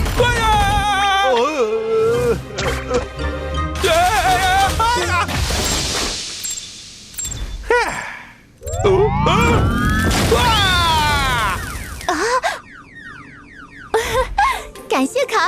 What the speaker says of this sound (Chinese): 感谢卡尔和伯洛特，他们承受了爆炸的全部威力，没有对花城造成任何影响。